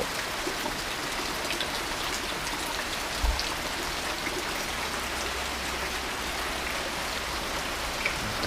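Steady rain falls through the night, a constant close hiss of drops with soft spattering on surfaces and a brief dull knock partway through.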